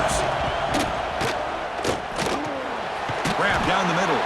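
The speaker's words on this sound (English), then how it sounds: "Listen to the crowd energy here in the early going." A stadium crowd roars steadily through a college football game between Oregon and Ohio State in EA Sports College Football 26, a dense, constant wash of cheering and shouts with thumps, under a commentator talking.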